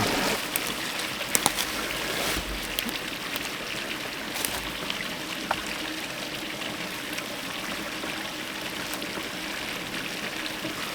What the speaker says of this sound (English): we will have the water fill back up in this barrel